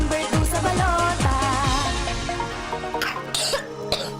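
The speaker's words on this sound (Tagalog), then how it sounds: "Ubo ng anak? Nakababahala? Baka plema." A child coughs repeatedly in a quick run of harsh, congested bursts, loud and close, followed by a few scattered weaker coughs and throat sounds.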